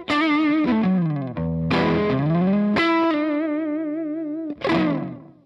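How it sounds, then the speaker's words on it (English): An electric guitar played through a Roger Mayer Axis silicon fuzz pedal sounds thick, saturated and buzzy. Several sustained notes bend and slide over about five seconds, with no speech. "I've got a silicon fuzz now, the Roger Mayer Axis fuzz."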